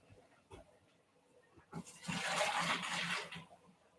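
Cooked angel hair pasta water pours from a pot into a colander, a faint rushing splash after a few soft clanks, fairly quiet and close, lasting under two seconds.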